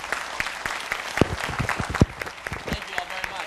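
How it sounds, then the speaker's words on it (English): An audience at a summit on entrepreneurship and small business applauds, with scattered, uneven claps rather than a full roar and a voice speaking over them. "applauding these two incredible people and all that they do."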